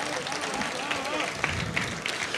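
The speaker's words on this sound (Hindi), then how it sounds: "तालियां बजाइए।" Audience clapping after a poem recitation at a poetry gathering held in a jail, a busy rattle of many hands with some crowd murmur and voices mixed in.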